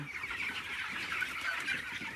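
Poultry chickens in a farm shed on a cold, foggy day, a dense flock murmuring and clucking continuously at moderate volume.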